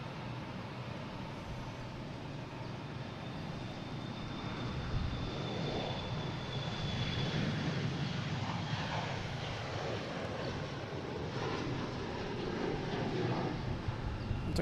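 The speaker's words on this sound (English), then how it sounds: "next coming in, taking off, I should say, is a Delta heading to Jacksonville, E175" Delta Embraer E175 jet taking off from Boston Logan for Jacksonville, a steady, moderately distant engine roar that builds gently and holds, alone without talk.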